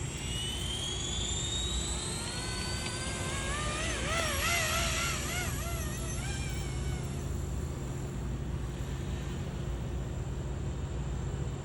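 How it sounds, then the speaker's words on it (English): Blade 235 CP RC helicopter flying, a continuous high-pitched whine of motor and rotor that rises and wavers as it maneuvers, close by and loud throughout. "This is a Blade 235 CP. Awesome. Let's take her for a flight."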